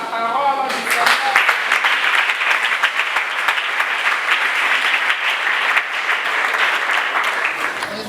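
A church congregation breaks into sustained applause that continues steadily for several seconds, dense, broad and fairly close, with a few faint voices mixed into the clapping.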